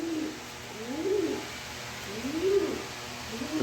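A frightened male pigeon offered for sale coos in repeated rising-and-falling phrases, three close, clear calls spaced about a second apart with no talk.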